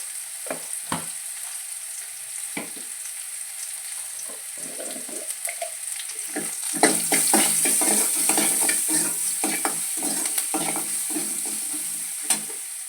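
Onions fry in a pan for a South Indian tempering with coconut. Scattered stirring scrapes open the clip, then the sizzle grows louder and steadier partway through, with frequent spoon strokes close up.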